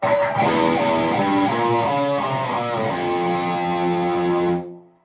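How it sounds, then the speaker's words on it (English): A guitar runs through a distortion pedal with its level turned up, giving a loud, sustained, buzzing tone with shifting chord notes for several seconds before fading out, alone and close. "the noise is still about relatively the same as when I turn the distortion up"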